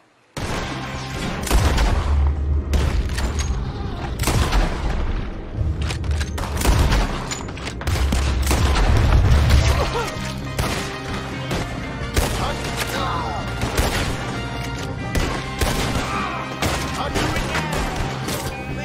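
Gunfire in the Western video game Red Dead Redemption 2 rings out in rapid, repeated loud shots and booms, a dense close firefight mixed with game sound and brief voices.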